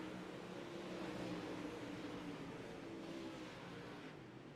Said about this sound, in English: there's 20 cars on the racetrack at the moment